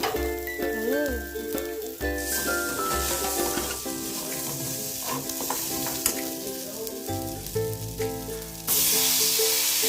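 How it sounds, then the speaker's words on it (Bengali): Meat with broken wheat, carrots and potatoes sizzles steadily in a pan, and near the end water goes in, setting off a sudden louder, hissing surge. "এখন দিয়ে দেব পরিমাণ মতো জল।"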